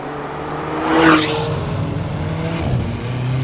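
An Alfa Romeo 4C mid-engine, rear-wheel-drive sports car accelerating hard in third gear, its engine rising to a loud, close rev that peaks briefly and then carries on at a strong steady drone.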